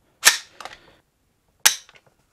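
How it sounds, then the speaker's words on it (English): A Davidson Defense 5.56 AR-15 kit rifle, unloaded, has its trigger pulled against a Lyman trigger gauge. Two sharp, close metallic clicks ring out about one and a half seconds apart, each followed by a short rattle, with no talking. "So we'll be using a Lyman trigger gauge for the trigger pull here."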